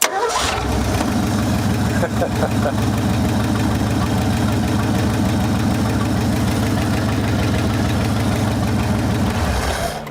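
An abandoned 1974 Ford Bronco engine is cranked and catches, then runs loudly and roughly with a knocking idle for about ten seconds before cutting off.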